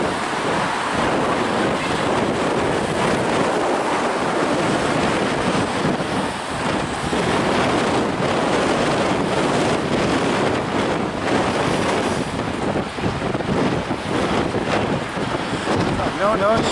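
Strong wind roars and buffets the microphone on a breezy Blackpool seafront, a constant loud rush with waves and water noise beneath it and a voice faintly present.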